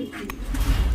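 Pigeons at a home farm loft with caged racer, Giribaz and Danish breeds, giving low murmuring coos close by against a steady background hum.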